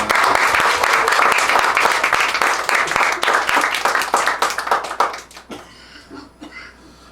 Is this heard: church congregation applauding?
yes